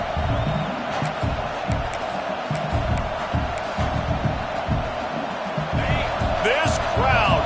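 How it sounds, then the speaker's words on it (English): Roaring crowd at a Florida State versus Clemson college football game in a stadium, a loud, continuous full-throated wash of cheering and shouting that swells and carries through the whole stretch, with bursts and whoops on top. "This crowd, full throat, splitting the eardrums"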